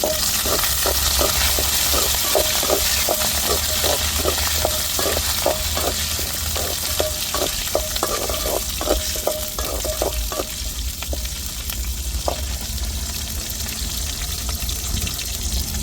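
Curry leaves frying in hot oil for a garlic curry, giving a steady broadband sizzle. A quick, regular run of stirring taps sounds over it for about ten seconds, then the sizzle continues alone with no talk.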